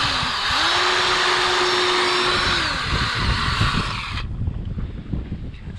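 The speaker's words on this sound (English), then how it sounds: "Gone up to 3 mil pilot hole, which is almost the size of the thread" A power drill bores a 3 mm pilot hole into a 2010 Jayco Expanda caravan during a rear camera install, a loud steady whine that rises in pitch, holds, then cuts off abruptly, leaving quieter rustling.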